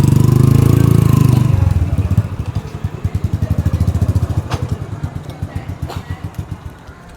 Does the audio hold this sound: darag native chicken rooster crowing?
no